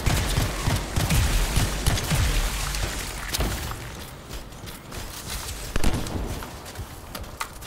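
Pistol gunfire in the video game Anthem cracks out in scattered sharp shots amid a dense, noisy battle mix of thumps and mechanical clatter, loud and close, with no talk.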